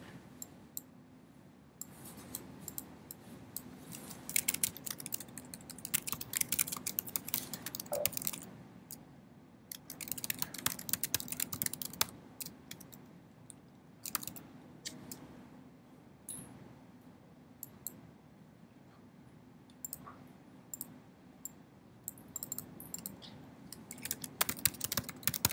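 Computer keyboard typing at a desk, irregular bursts of close clicking keystrokes over a steady low room hum, with short pauses between runs.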